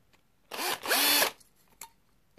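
A small power drill making 2mm holes in a robot finger part whirs in two short bursts, its pitch rising as it spins up and bites, followed by a faint click.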